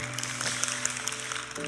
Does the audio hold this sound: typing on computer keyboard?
no